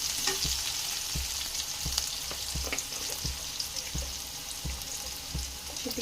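Drumstick leaves frying in a pan, browning in oil with a steady crackling sizzle and regular soft knocks of stirring throughout; close and moderately quiet, with no voices.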